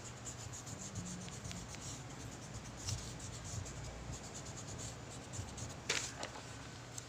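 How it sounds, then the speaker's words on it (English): An eraser rubs out pencil marks on paper while a trapezoid is drawn, a soft continuous scratchy rubbing in short strokes, close and quiet, with a few sharper taps. "we're going to erase the unnecessary marks"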